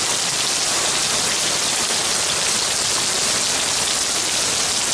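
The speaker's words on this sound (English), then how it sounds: "What a hell of a storm going on here." Heavy rain pours down during a storm, a dense, loud, unbroken roar of water hitting surfaces with no pauses or voices.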